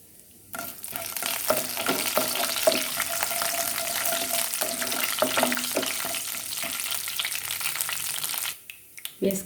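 Mustard seeds, cumin, chana dal, urad dal and two dried chillies fry in hot oil for a ladyfinger fry, a steady loud sizzle with crackles and occasional stirring scrapes close by, which cuts off abruptly near the end.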